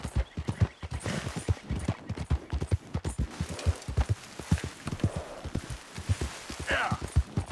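A horse's hooves clop at a steady walking pace in Red Dead Redemption 2, close and distinct beats on firm ground, with a brief whinny and someone talking quietly over them.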